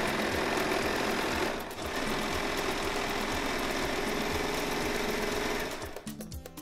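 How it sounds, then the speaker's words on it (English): A sewing machine stitching knit ribbing onto a child's hoodie runs in a fast, steady mechanical rattle, loud and close, then slows and stops near the end. "When they are attached, it's time to sew them."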